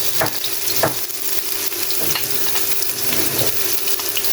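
Onions frying in a pan for Filipino menudo, a loud continuous sizzle with several clattering stirs of a utensil against the pan, close up and with no talking.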